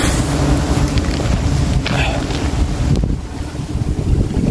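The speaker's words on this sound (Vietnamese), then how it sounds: "Quá trời gió cả nhà." Strong wind buffets the microphone outdoors during beekeeping, a loud continuous roar and rumble that swells and dips steadily throughout.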